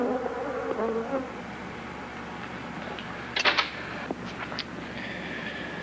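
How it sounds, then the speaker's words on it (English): Swarming Africanized bees from a 1976 film, a dense steady buzz with sharper whining bursts from individual insects passing close, loud and unbroken without voices. "The Africanized bees attack when annoyed by color or sound."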